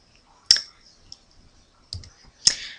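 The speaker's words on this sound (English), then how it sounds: "all you have to do then is click OK" A computer mouse clicking an OK button, three or four sharp, close clicks spaced unevenly over near silence.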